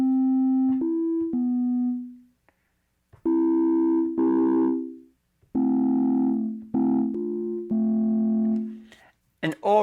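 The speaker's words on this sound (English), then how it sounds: "just with the sine waves, it's already pretty good for like a cheap organ sort of sound" A Polyend Play synth plays sine-wave notes with a cheap organ-like tone, a series of clean sustained chords and short notes with gaps between phrases, ending in a brief cluster of quick bright blips.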